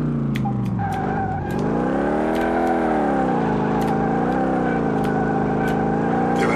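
A car in Car Mechanic Simulator 2018 does a burnout, its tires squealing in a long, loud, wavering screech over a steady revving engine, close and continuous throughout.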